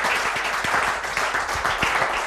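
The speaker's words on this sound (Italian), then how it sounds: "Facciamo un applauso," Applause breaks out in a regional sports TV studio celebrating Pordenone's promotion to Serie B, a brisk, even stretch of several people clapping close by without talk.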